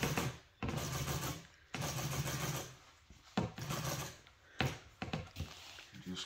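Sewing machine stitching a golf cart seat cover, running in several steady bursts with brief pauses between them, close and fairly loud, starting and stopping as the fabric is fed and back-stitched.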